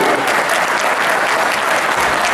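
Loud, dense applause from a large audience at a California Democratic Party African American Caucus gathering, a steady roar of clapping that holds evenly for a couple of seconds.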